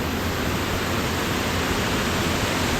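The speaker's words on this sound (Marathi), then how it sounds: "पाण्याचा आवाज तुम्हाला ऐकायला येतच असेल" Steady, dense roar of rushing water at Hasane waterfall in Konkan, a loud unbroken wash of falling water with no voices, continuous from start to finish.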